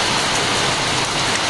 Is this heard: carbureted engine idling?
no